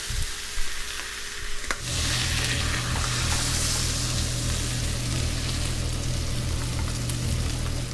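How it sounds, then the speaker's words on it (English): Steak dropped with a few tablespoons of butter into a smoking-hot pan, starting a loud, steady sizzle that begins abruptly after a quiet moment and continues dense and crackling, with no talk. "you're going to go ahead and drop the steak on, along with a few tablespoons of good butter"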